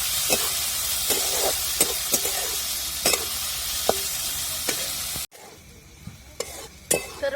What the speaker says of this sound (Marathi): दोन्ही आता चांगलं परत डबल परतून द्यायचं